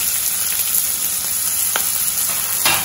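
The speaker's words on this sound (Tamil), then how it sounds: "இதை நல்லா வதக்கிடுவோம்." Chopped onions and green chillies sauté in hot oil in a pan for a potato cauliflower kurma, a steady close sizzle and crackle with a few sharper pops.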